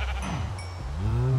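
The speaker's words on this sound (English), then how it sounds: "what are you doing in the sheep farm?" A Minecraft sheep bleats once, a wavering, drawn-out call that rises and falls, close and clear with no talk.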